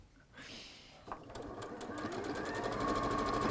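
A sewing machine stitches a 1/4 inch seam on a bag, its motor whirring up into a steady, close, rapid hum after a brief fumbling start.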